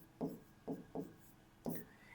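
Four short scratchy strokes of chalk or marker writing on a classroom board during a Class 10 maths lesson, spaced irregularly and fairly faint, with no talk over them.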